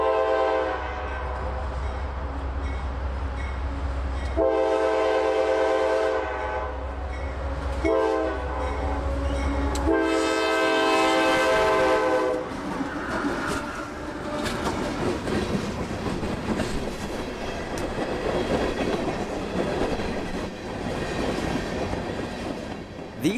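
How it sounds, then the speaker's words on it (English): Freight local L781 with two CM44 locomotives hauling cement cars on the Tampa S-Line at night: a loud horn blows in several long blasts over engine rumble, then wheels clatter and squeal as the cars roll past close by. "L781, which still runs Sundays, Tuesdays, and Thursdays, now commonly seen with 2 CM44s and 20 car cuts for Cemex in Brooksville."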